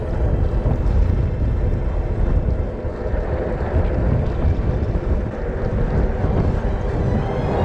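A tail breeze buffets the microphone while riding a fat bike on a touring trip through the Flinders Ranges, a loud continuous low rumble of wind noise with no voices.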